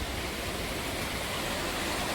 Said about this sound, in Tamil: பக்கத்துலேயே ஒரு அருவி, அந்த அருவிக்கு தான் இப்போ போயிருக்கோம்